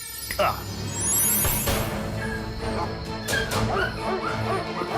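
Dogs yip and whimper in short high cries, a few close bursts mixed with a bark, heard over background talk and clatter.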